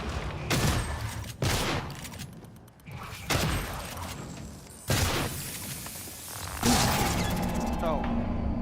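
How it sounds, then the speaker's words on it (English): Several loud blasts and crashing booms from an explosive canister going off in the sci-fi shooter Prey, bursting repeatedly with broad rumbling impacts, with a voice speaking over the action. "There was a kaboom canister."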